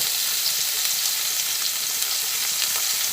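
Eggs and chopped tomato fry in a pan with salt, producing a loud, dense, continuous sizzle with fine crackling throughout, with no voices.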